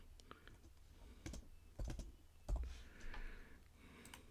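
Typing on a computer keyboard in a C++ code editor comes through as faint, quick key clicks in short irregular bursts, close and quiet, with a soft voice murmuring now and then.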